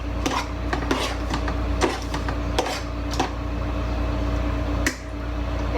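A utensil stirs quinoa salad dressed with lemon juice in a bowl, giving sharp scattered clinks and taps against the bowl over a low steady hum, close and fairly loud.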